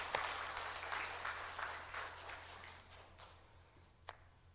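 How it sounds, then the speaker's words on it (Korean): Faint, thinning applause from a church congregation at a Sunday worship service, scattered claps fading over a few seconds against a low steady hum, with one sharp isolated clap near the end. "다시 한번 박수 부탁드립니다."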